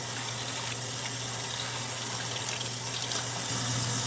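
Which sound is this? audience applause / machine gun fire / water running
water running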